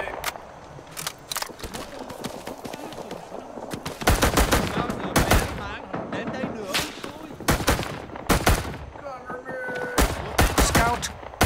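Rapid gunfire in the video game Rising Storm 2 on the Dong Ha map, including M1 Carbine shots: loud, dense bursts of rifle and machine-gun fire crackle continuously, with single sharp reports mixed among sustained volleys.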